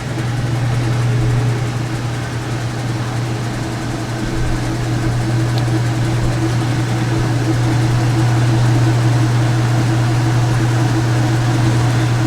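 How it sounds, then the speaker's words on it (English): A washing machine in its spin cycle gives a loud, steady whirring drone with a deep hum that runs unbroken throughout, close by and without speech. "We have a spin over here."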